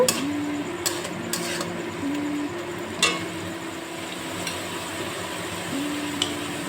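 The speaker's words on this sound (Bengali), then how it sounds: "নুনটা দিয়ে আবার আমি একটু নেড়ে চেড়ে নেব।" A pan of salted tomato and onion for a fish curry being stirred, soft scraping and occasional sharp clinks of the utensil against the pan over a low steady hum.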